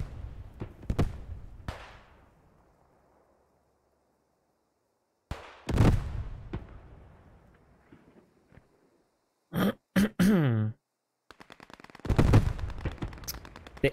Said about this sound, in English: The AT gun still hitting the barn from far away